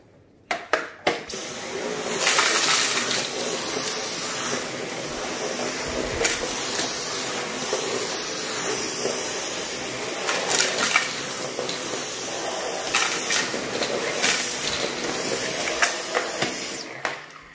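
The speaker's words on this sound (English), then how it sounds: "So I'm gonna finish up picking this mess with my Dyson V10." A Dyson V10 cordless vacuum cleaner picks up spilled flour, a loud continuous high whine and rushing airflow close by, with small fluctuations as the head moves, starting and stopping abruptly.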